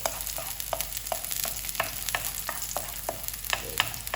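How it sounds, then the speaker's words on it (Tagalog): Garlic sautéing in a hot pan, a steady frying sizzle broken by regular scrapes and clicks of a spatula stirring the pieces, close and fairly loud with no voices. "gisa-gisahin na natin to para lumabas yung kanyang aroma"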